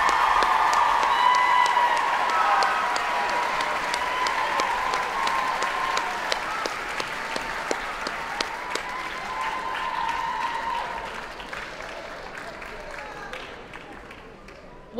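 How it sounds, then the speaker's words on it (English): Sustained applause and some cheering from a concert audience at a choral gala, loud and dense at first, then gradually thinning toward the end with scattered individual claps. "Another round of applause, please"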